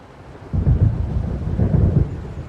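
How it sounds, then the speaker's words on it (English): Storm in the video game Alan Wake, with a heavy low rumble of thunder rolling in over steady rain, loud and sustained for a couple of seconds after a quieter start. "It seems there's a storm coming."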